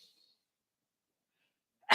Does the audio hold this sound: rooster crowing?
no